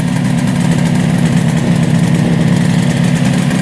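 A 1966 motorcycle engine idles steadily after a carburetor adjustment, a loud, even low rumble running unbroken and close with no talk over it.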